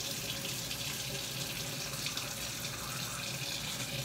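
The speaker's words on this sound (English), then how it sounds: "I fill the bag up with water just to rinse them off a little bit, just to drain it out." Tap water runs steadily into a plastic bag holding carrots to rinse them, a continuous close splashing rush with no voices.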